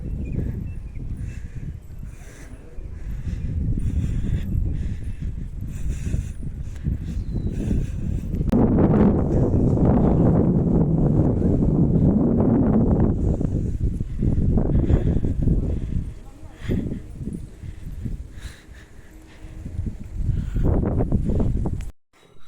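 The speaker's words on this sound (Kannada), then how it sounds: "ಬೆಟ್ಟದ ಮೇಲಿರೋದ್ರೆ ಎಷ್ಟು ಜೋರು ಗಾಳಿ ಬೀಸ್ತಾ ಇತ್ತು ನೋಡಿ" Strong wind blows across a hilltop near a temple, buffeting the microphone with loud, low, rumbling gusts that swell and ease throughout, with no talking.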